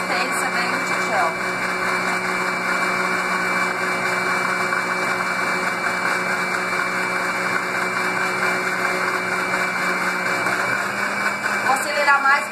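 A kitchen blender runs continuously, whirring steadily as it whips kefir into a gel, its loud motor hum filling the whole stretch while someone speaks over it.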